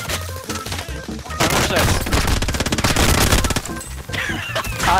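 Rapid automatic gunfire rattles in a first-person shooter game, dense bursts of shots that come in quick runs, pause briefly and start again, loud and close, with someone talking over parts of it.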